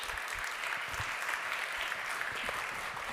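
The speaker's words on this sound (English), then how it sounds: "So please welcome with a big round of applause, ladies and gentlemen" A conference audience claps steadily in welcome as a panel moderator is introduced at a finance session, a moderate, even applause with no voices over it.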